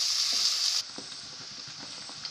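Onions sauté in hot oil with a bright, hissing sizzle that cuts off abruptly after a moment, leaving only a faint crackle.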